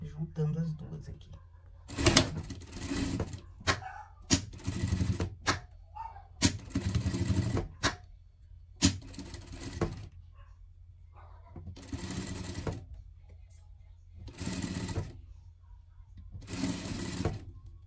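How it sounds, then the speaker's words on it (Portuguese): A sewing machine stitching a seam to join two pieces of a pet dress, running in short bursts and longer runs with pauses between, close up, while someone talks over it. "Passar a costura aqui, juntando as duas aqui."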